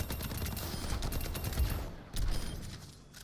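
Rapid gunfire rattles out in Overwatch as Soldier 76, a loud close burst of shots, a brief pause, then another volley that trails off into quieter mechanical clicks.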